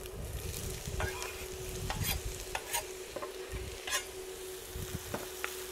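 Chopped half onion sizzling in a frying pan, a steady close crackle with scattered spatter pops and a few louder stirring clicks, no talk.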